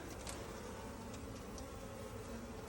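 Honey bees in a nucleus hive box give off a dense, steady buzz, loud and close, continuous without pause.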